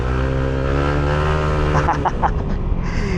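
A motorcycle engine revs hard on a mountain road, a loud continuous droning tone with strong harmonics, close to the listener, with a few rapid throttle blips near the end.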